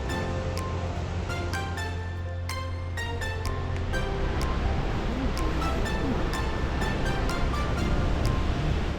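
Chamarel waterfall in the Mauritius highlands pours in a broad, steady roar, heard from a viewpoint, with a low wind-like rumble and a few faint clicks over it.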